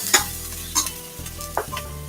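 Peppers and onions sauté in a pan for creamy white bean chili, a low steady sizzle punctuated by three or four quick scraping stirs, heard up close with no talking.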